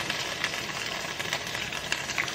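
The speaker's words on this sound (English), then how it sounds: "Y'all hear that sizzle?" Cabbage sizzles while cooking in a pot for soup, a steady, even hiss with faint crackles and pops scattered throughout, no voices heard.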